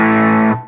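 An electric guitar chord through a Stone Deaf FX Q Boost pedal rings out thick and saturated with overdrive, sustaining loudly for about half a second before cutting off and fading.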